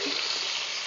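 Mango pieces are stirred and fried in a pan with bay leaf and panch phoron, giving a brief, dense, even sizzle up close with faint stirring underneath.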